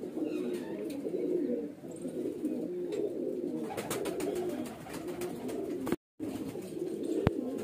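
Highflyer pigeons in a loft, soft low cooing from the birds while a female is held up to be shown, steady and close, with brief clicks and a short dropout near the end.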